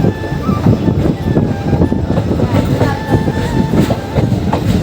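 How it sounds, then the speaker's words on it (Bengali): A passenger train running from Raiganj towards Katihar rumbles loudly and steadily up close, its wheels clattering in a dense, continuous rhythm with no voices. "এখন রায়গঞ্জ থেকে ছেড়ে দিয়েছে ট্রেন কাঠিয়ারের উদ্দেশ্যে"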